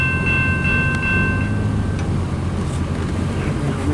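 A CN mixed freight train led by locomotives 2692 and 2237, rolling westbound through Port Huron, Michigan: loud, close, continuous rumble of wagons passing with faint metallic tones, no talk.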